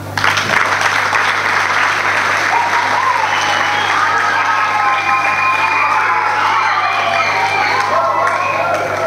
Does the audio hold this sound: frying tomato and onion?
no